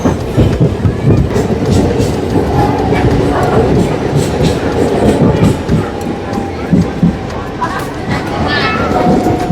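A Santragachi–Digha local train running on rails in India, with a loud continuous rumble and rattling clatter from inside the carriage and passengers' voices mixed in throughout.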